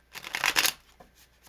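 A deck of mini tarot cards is shuffled briefly, one soft, close riffle lasting about half a second, followed by a few faint taps as the cards settle.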